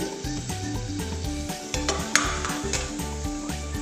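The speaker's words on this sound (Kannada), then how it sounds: "ನಾನು ಒಂದು ಎರಡು ಸ್ಪೂನ್ ತುಪ್ಪನ ಆ್ಯಡ್ ಮಾಡ್ಕೊಂಡಿದ್ದೀನಿ ಕಾರ್ನಲ್ಲಿ" Sweet corn frying in ghee in a pan, a bright constant sizzle with rhythmic spoon stirring and scraping against the pan throughout.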